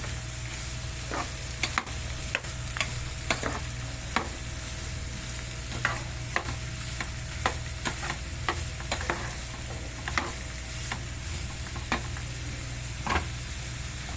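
Beetroot fry sizzles steadily in a pan while a spoon stirs and scrapes it in frequent short knocks, close and fairly quiet, with no voices.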